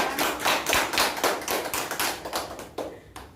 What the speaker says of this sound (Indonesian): Oke, beri aplaus untuk teman kita.